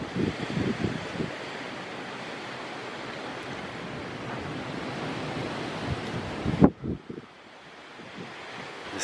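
Storm wind buffeting a small wind turbine in late May, a steady broadband roar with gusty swells and microphone wind noise, a sharp knock near the end before the rush eases and builds again.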